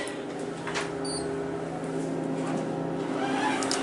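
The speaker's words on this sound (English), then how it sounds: "Just your basic KONE elevator." A KONE dry-powered hydraulic elevator runs inside a convention center, giving a steady low motor hum with faint tonal whine throughout, close and continuous without breaks.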